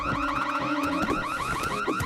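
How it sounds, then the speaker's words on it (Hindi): A loud alarm wailing close by with a rapid, repeating rising and falling siren pattern, steady for the whole moment with no talk over it. "हाँ, अलार्म।"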